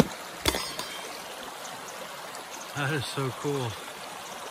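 A secret creek in Oregon flows in a steady broadband wash throughout, with a brief clack early on and a voice speaking briefly near the end over the water.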